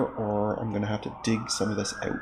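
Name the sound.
emergency vehicle sirens passing a busy intersection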